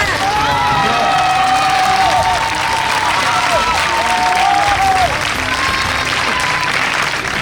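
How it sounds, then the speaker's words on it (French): Audience applause and cheering at a school academic excellence awards ceremony, a dense steady clapping crowd with shouts rising over it, loud and continuous throughout. "Acclame bien."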